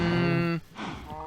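A cow in Minecraft, near a modded cow-crushing machine, gives a long, loud, steady moo that ends abruptly, followed by softer lowing and faint background noise.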